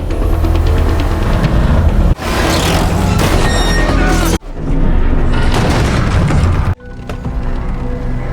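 Loud, roaring bomb blasts with rumbling low end fill the clip in several sustained bursts, separated by abrupt cuts, from the film Retribution (2023).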